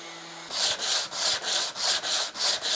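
Hand or power sanding on a walnut bench workpiece, a steady rhythmic rasp in about eight even back-and-forth strokes, close and fairly loud, with no talking.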